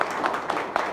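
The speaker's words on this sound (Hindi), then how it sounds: "अच्छा, हम जोरदार तालियां बजाएंगे।" A Sunday church congregation clapping loudly together in a quick, steady rhythm, heard for just under a second and closely packed with voices faintly mixed in.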